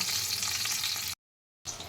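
Pointed gourd pieces fry in hot oil with a steady, fairly quiet sizzle that drops into a short, complete silence before resuming.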